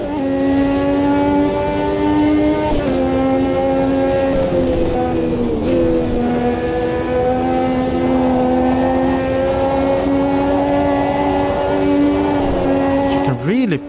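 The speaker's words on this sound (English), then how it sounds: "Really push this car." A Formula 1 car engine in a racing simulator game screams continuously at high revs, its pitch dipping briefly at gear shifts and swelling again as the car accelerates through a circuit.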